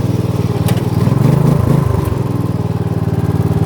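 Small offroad black Murray minibike engine running steadily close by, a loud continuous buzzing drone with a slight rise in revs midway, with no talking.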